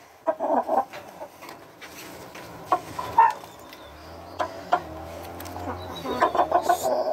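A rooster gives a few short clucks and calls at intervals, fairly close, with other birds and faint farmyard sounds in the background.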